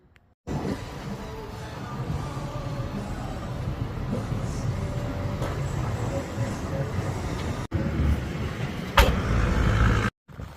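An old truck that is low on fuel cranks and then runs with a steady, rough engine rumble. The engine stays loud for about ten seconds with a brief break partway through and then cuts off at the end.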